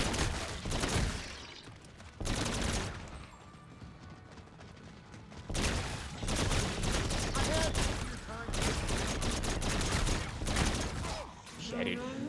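Repeated heavy blasts from a Mauler weapon tear into brutes in Infinite Warfare Zombies in Spaceland, loud bursts separated by short pauses, with game noise and a voice talking between shots.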